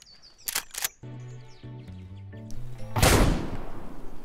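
Shotgun fire in a survival video game, a few sharp broadband blasts near the start followed by a louder, sustained burst of noise later, with game music and chirping effects in between.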